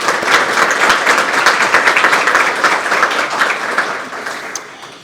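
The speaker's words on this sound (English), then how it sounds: "Let's give them a round of applause." An audience applauding at the Heart of the Shires event, a full, steady round of clapping from many people that slowly thins and fades toward the end.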